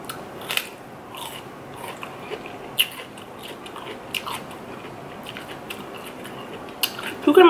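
Raw cucumbers are crunched and chewed up close during a mukbang eating session, with a string of sharp, irregular bites and crackly chewing, ending in a louder crunchy burst.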